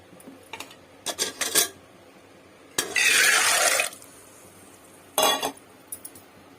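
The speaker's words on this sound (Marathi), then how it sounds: "शिजवण्यापुरतं दोन ग्लास असं पाणी टाकून घेत आहे" About two glasses of water pour in a steady rush for about a second into a pressure cooker, framed by metallic clinks and knocks of the pot and utensils before and after.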